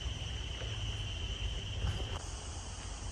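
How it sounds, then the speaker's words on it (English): Cicadas in the woods at night keep up a steady, high-pitched insect trill, moderately quiet and unbroken against a low background hum. "all we hear are these cicadas"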